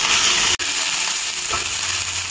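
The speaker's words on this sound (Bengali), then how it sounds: "চুলার জালটা মিডিয়ামে রেখে মশলাটা প্রায় 5 মিনিটের মতো কষিয়ে নিয়েছি।" Spice paste with dried chillies frying over a medium flame for an ilish fish head and taro greens dish: a steady, loud, close sizzle throughout, broken once by a single sharp click.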